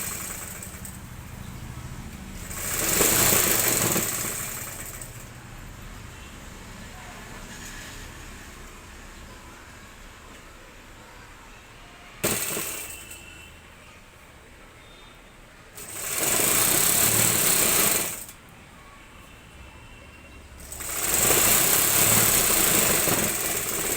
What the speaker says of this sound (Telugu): హ్యాండ్స్ వేస్తున్నాను, హ్యాండ్స్ కుడుతున్నాను.